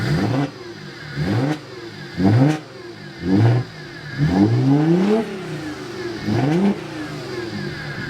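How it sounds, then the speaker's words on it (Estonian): An Audi S4 engine revs repeatedly in sharp bursts, rising and falling several times close by over a steady idle. "Mootor hakkas ka iseenesest tööle."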